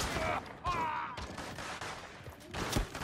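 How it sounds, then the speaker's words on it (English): Faint gunfire from Realm Royale, heard as a few scattered sharp shots during a PS4 Pro match, quiet and somewhat distant under the game's ambient sound. "Can you stop shooting me?"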